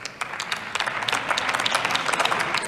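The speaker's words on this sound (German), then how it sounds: "Applaus." Steady, dense applause from members of the German Bundestag fills a large parliamentary chamber, a continuous wash of many hands clapping at moderate loudness with no speech over it.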